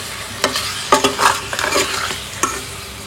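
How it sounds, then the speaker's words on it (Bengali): Chicken and potatoes stirred and fried in a pan, with a sizzling bed broken by several distinct scrapes and clatters of a utensil against the pan, close and fairly loud, no talking. "খুব ভালো করে এটাকে এবার দুটোকে একটুখানি নাড়াঘাটা করে কষিয়ে নেবো"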